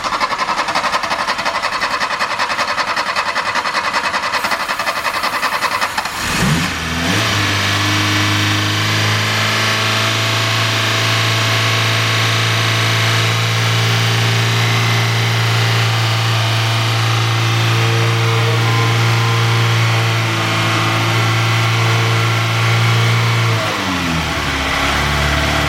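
A 1980s Volkswagen car engine sitting unused for ten years catches on its first start after a few seconds of noisy cranking, then runs loud and steady at a rough idle for about seventeen seconds before cutting off.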